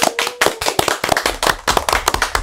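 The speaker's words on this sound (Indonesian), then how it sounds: "boleh dong aplaus buat kita semua" Audience applause at a talk about martial arts students' achievements: dense, steady clapping with sharp overlapping claps, fairly loud and close, filling the whole stretch without speech.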